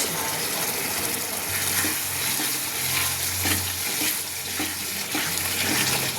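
Spice masala of turmeric, salt and chilli powder being stir-fried in a pan for boal fish curry, a steady close sizzle with scraping stirs throughout, no talking.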